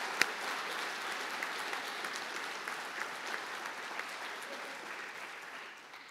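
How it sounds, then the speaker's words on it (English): Steady applause from family and friends in the audience at a police academy graduation, a broad, even wash of many hands clapping that holds for several seconds before tapering slightly at the end. "Take a moment and applaud all the commitment of your family and friends"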